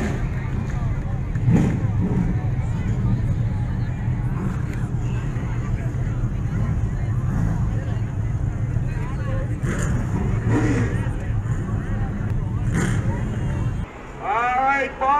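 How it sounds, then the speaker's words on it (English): Late model race car engines at Jennerstown Speedway, a loud, steady throaty rumble that runs throughout, with revving surges layered together, until a brief dip near the end. "Driver, start your engine."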